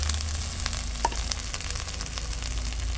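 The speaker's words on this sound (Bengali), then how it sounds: "মশলাটা সামান্য ভাজা হয়ে গেছে" Ground spice paste sizzles in a pan at the start of a chicken skin, potato and tomato curry, giving a steady, close frying crackle with faint stirring and no talk.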